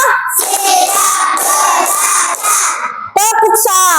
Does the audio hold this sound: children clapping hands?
yes